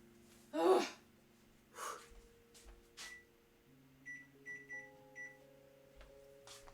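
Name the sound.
microwave oven timer being set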